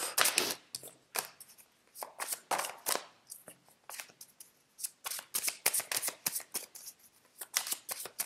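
A deck of oracle cards being shuffled and cut, with quick riffling bursts repeating in an irregular rhythm, close and crisp against a quiet room.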